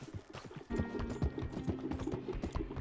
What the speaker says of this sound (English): let's have like, like we both ride our horses, both at each other